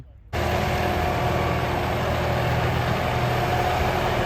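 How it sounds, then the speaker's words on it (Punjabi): A New Holland 5620 tractor engine idles close by with a steady low rumble, starting abruptly after a brief silence and holding an even drone throughout. "ਇਹ ਆ ਟਰੈਕਟਰ ਜਿਹੜਾ ਆਪਣੇ ਕਣਕ ਬੀਜਣਾ ਆ"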